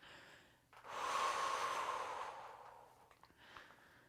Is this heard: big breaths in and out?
yes